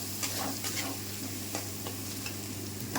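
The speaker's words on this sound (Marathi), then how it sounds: "आता आपण ह्याला ना छानपैकी तळून घेणार आहे." Homemade masala tempering fried in hot oil for dhaba-style dal tadka, a steady close sizzle running throughout with faint scraping stirs, no voices.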